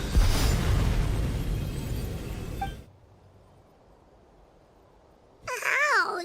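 An explosion in Genshin Impact: a loud, broad roaring blast that fades over a couple of seconds into near silence. A bright tonal effect then swells in near the end.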